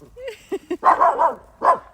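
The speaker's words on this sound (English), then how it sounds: "My dog is barking." A dog barks in a rural yard near horses, with several short yips followed by louder, fuller barks close by, a soft voice briefly audible among them.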